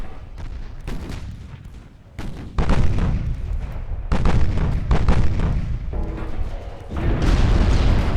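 Heavy warship guns firing in a 1910 Austrian naval campaign video game, booming blasts and rumbling salvos layered with continuous roaring, loud and close.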